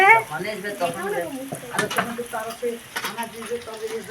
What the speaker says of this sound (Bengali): দেখুন কত সুন্দর এখানে লুচি ভাজা হয়ে গেছে।